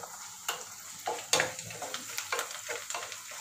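Onion, garlic and sundakkai fry in hot oil, a soft sizzle punctuated by several sharp clinks and scrapes of a stirring utensil at an uneven rhythm.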